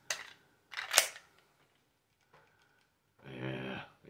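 A CZ 75 P-01 Omega pistol handled at close range: two sharp metallic clacks, then a short pause and a longer gritty sliding rattle as the magazine is shot out of the grip, with no talk over it.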